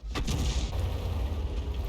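A 45TP tank's main gun fires once in a tank video game: a sharp, loud crack right at the start, then a deep, rolling low-end boom that rumbles on steadily to the end, with no voices over it.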